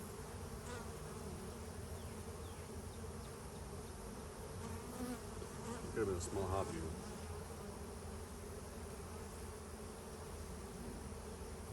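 A dense, continuous buzz of honey bees around an opened hive during a search for the queen, droning close by throughout, with a short spoken remark partway through and a few faint handling sounds.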